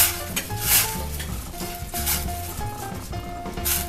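Water and butter heat in a pan for choux pastry dough, giving a steady close sizzle with scraping and stirring against the metal pan, and a background musical tone.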